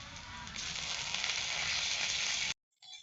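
Ginger, garlic and cumin paste with green chilli fries in hot oil, giving a bright, loud hissing sizzle that swells after half a second and holds steady before cutting off suddenly.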